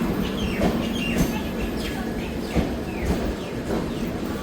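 The Rishikesh Intercity Express rumbles and clatters on the tracks as it pulls away from Yamuna Nagar station, a steady low roar with faint clicks and distant background noise.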